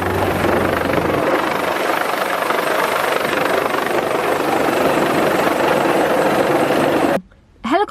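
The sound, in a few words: helicopter hovering overhead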